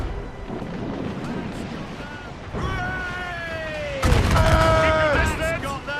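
Ship cannons fire in a naval battle in Assassin's Creed Rogue, heavy booms bursting over wind and sea noise, with voices shouting amid the barrage.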